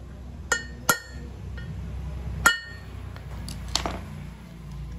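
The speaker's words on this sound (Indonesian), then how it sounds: "Kita pukul sampai rata." A hammer taps a core plug flat into a cylinder head, giving a few sharp, close metallic strikes spaced apart over quiet background noise.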